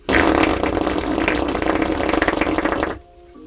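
A voice imitates a big, drawn-out fart, a long loud rasping, flapping buzz held close to the mic for about three seconds before stopping abruptly.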